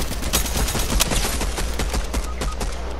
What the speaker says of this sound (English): Someone else shooting?